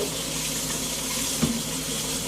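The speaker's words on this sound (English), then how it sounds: "we're going to rinse off our Brussels sprouts before we cut them. We're going to do that in cold water" Cold tap water running steadily into a kitchen sink to rinse Brussels sprouts, a continuous close hiss with one brief splash partway through and no talking.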